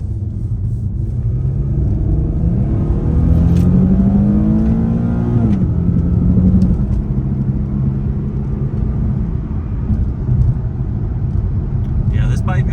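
An Infiniti G37 rolls along on new tires with a steady road rumble, and its engine briefly revs up and falls back partway through; the car is heard from inside.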